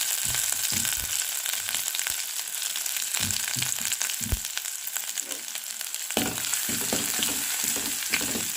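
Ground masala paste fries in a pan, giving a steady dense sizzle throughout with scattered scraping stir knocks, close and fairly loud, no voices.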